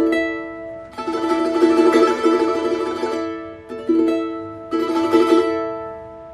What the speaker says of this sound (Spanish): El acorde de La sus 4 sería así.